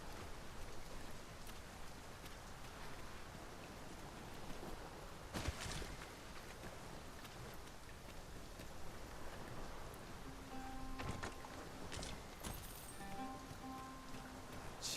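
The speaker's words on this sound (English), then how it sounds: "It is raining." Steady rain falls in a fantasy fighter game, a continuous soft hiss of drops on surfaces, with a few brief louder splashes and faint tonal game sounds near the end, no voices.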